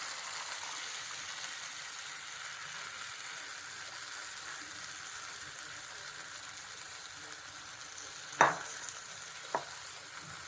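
Coconut milk goes into sautéed onion and tomato as a quiet, even simmer, broken near the end by two distinct spoon knocks against the pan.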